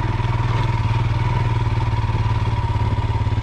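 A Royal Enfield Himalayan motorcycle in second gear chugs along an off-road back-country trail, its engine giving a steady, close, pulsing thump with faint clatter throughout and no speech.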